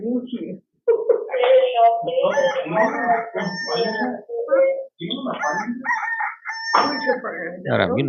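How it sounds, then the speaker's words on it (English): A rooster crows repeatedly in the early morning, several drawn-out calls close by and fairly loud, with clucking fowl mixed in and no other sounds between the calls. "Nice and early for the rooster to start roostering."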